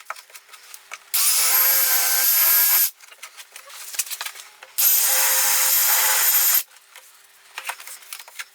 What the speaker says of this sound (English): I'm just going to take a 3mm drill and just make these cuts a little bit bigger.